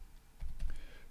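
A few quick keystrokes tap on a computer keyboard, soft and close, in a brief burst.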